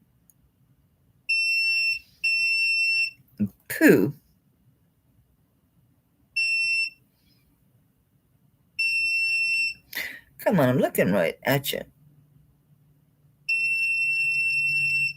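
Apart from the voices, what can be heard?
electronic tester beeping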